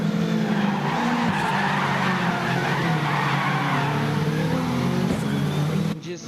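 A race car roars past with long, loud tire skidding and squealing over a steady engine drone at a rally event, then the noise cuts off abruptly near the end.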